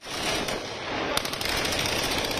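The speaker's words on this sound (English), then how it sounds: "Those shots fired into the air by distraught Palestinians" Mourners at a funeral procession in the occupied West Bank fire guns into the air, producing rapid, continuous bursts of crackling gunfire that sound close and loud, with a sharper cluster of shots partway through.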